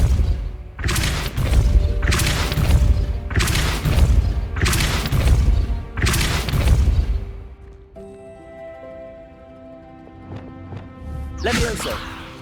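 Depulso force spell cast in the Hogwarts Legacy video game: five loud, booming thuds in steady succession, followed by softer ringing, shimmering game effects and a final swooshing burst.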